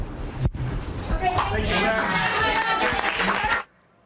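A crowd at a press event claps steadily for a few seconds, a dense burst of applause mixed with voices that stops abruptly.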